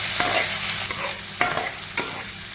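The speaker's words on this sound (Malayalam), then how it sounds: "മറ്റിങ്ങനെ നന്നായി വൃത്തിയായിട്ട് ഇളക്കി മിക്സാക്കി അടിപൊളിയായിട്ട് റെഡിയാക്കി എടുക്കുക" Soya chunks and curry leaves are stirred in a hot pan over a constant sizzle, with three or four distinct scraping strokes of the spatula, near and clear, without speech.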